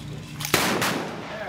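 One sharp revolver shot at a fast draw shooting competition, a single loud crack followed by a short, echoing tail over faint background noise.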